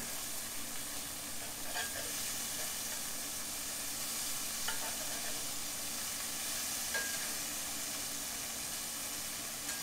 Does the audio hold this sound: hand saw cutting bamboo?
no